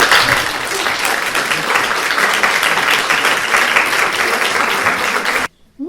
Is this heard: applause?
yes